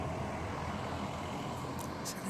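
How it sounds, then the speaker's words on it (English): Steady road traffic noise drifts into a home garden, a continuous low rumble of passing cars and trucks at a moderate distance, with a couple of faint higher hisses near the end. "Excuse the traffic noise."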